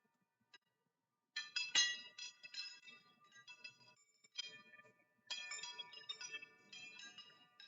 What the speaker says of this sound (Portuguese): Enorme, né? Esse Sino dos Ventos.